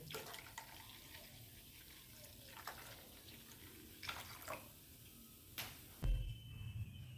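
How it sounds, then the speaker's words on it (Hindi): Water poured from a tap into a bowl of ground ingredients while making street-style ragda pani puri at home, a soft continuous trickle with a few louder splashes and a clunk near the end. "1 लीटर जितना पानी डाल देंगे।"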